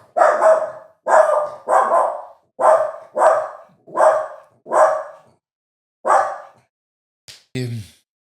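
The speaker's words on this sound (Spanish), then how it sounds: "el Bonifacio se puso a ladrar como un salvaje" A dog barks in a series of about eight loud, close barks at an uneven rhythm, with a short whimpering yip near the end and quiet gaps between.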